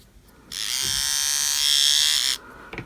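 An older AA-battery electric hair trimmer, used for tidying the neckline, buzzes steadily for about two seconds with a bright, thin motor whine, close and alone in a quiet room.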